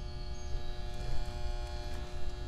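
Steady electrical hum from HVAC contactors pulled in, a constant buzzy drone with faint fluctuations, moderately quiet and alone with no speech.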